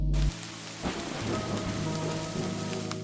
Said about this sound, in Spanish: una feroz tormenta azotó la ciudad de Orem, en Utah